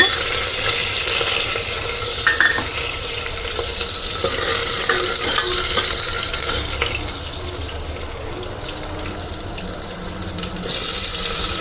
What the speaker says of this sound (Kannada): ಕರಿಬೇವು, ಒಣಗಿನ ಮೆಣಸಿನ್ಕಾಯಿ, ಅದಾದಮೇಲೆ ಬೆಳ್ಳುಳ್ಳಿ ಸ್ವಲ್ಪ